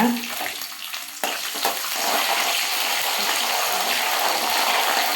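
Garlic cloves and whole dried red chillies fry in hot oil for a home-made garlic pickle, a steady close sizzle that jumps louder after a brief stir and then holds as a continuous bubbling hiss.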